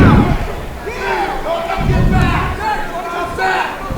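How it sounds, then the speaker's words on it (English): Crowd roaring and shouting at a Fight Night in the Bay boxing event, loud surging cheers with a few thuds, and a commentator talking over the noise. "Crowd."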